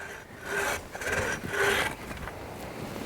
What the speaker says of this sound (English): Now when it comes to sawing wood safely and comfortably